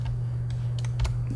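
A few quick computer keyboard key taps sound in a short, irregular burst, close and crisp over a constant low electrical hum.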